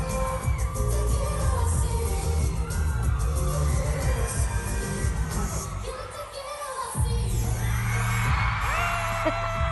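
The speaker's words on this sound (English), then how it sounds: "Crowd goes wild." Concert crowd at a show at The Wiltern cheering wildly over loud thumping bass music, the roar dipping briefly before surging back.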